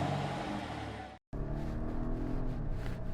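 A 2021 Volvo V60 Cross Country with a turbo engine and shiftable automatic transmission accelerating in comfort mode, a steady broadband engine and road roar heard from inside the car, broken by a brief dropout before resuming strongly.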